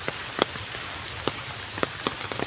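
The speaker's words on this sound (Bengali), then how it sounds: "বৃষ্টি ঘেরা, বৃষ্টি ভেজা একটি" Rain falls steadily outdoors on an afternoon campus, a constant soft hiss with irregular sharper drops striking a nearby surface, no voices.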